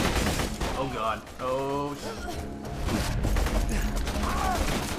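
Rapid machine-gun fire from an LMG in the video game Borderlands 2, loud and continuous bursts with game effects, under excited voices talking over the shooting.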